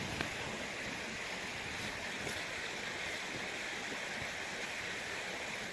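Steady rushing water, a continuous broadband flow of a creek running beside a tent in Red River Gorge, with no voices.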